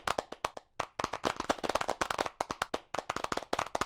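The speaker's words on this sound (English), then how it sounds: "We can applaud Simon again." A small audience claps after a talk at a virtual reality conference. The hand claps are sharp, close and separate, coming in rapid irregular bursts for about four seconds with a short pause near the start.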